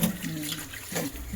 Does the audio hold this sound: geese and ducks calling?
no